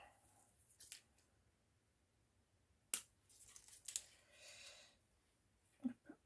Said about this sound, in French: les ciseaux.